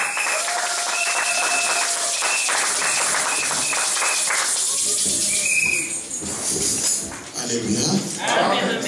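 A church congregation in Brussels applauds during a worship service: dense, steady clapping fills the space, with sustained tones over it, easing briefly near the end before picking up again.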